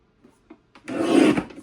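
A paper trimmer blade slides through cardstock for a handmade card kit in one close scraping pass lasting about half a second, after a few soft taps.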